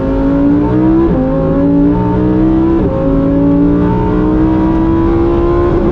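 A 2023 Lamborghini Huracan Tecnica engine revs loud and close toward 8,500 RPM, its tone climbing steadily, with brief dips at two gear shifts before it climbs again.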